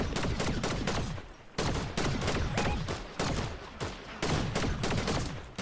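Rapid bursts of automatic rifle fire from a Vandal in the Fortnite video game, close and loud, repeating in dense volleys with short pauses between them.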